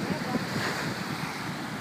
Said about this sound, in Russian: Да, возможно, шумит ветер.